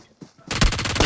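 Rapid automatic gunfire in a battle royale video game, a loud, close burst of quick repeated shots that starts abruptly after brief quiet and continues to the end.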